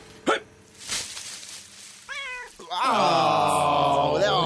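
A cat meows close by, a brief chirp-like meow followed by a long, drawn-out, insistent meow, with a few soft thumps beforehand.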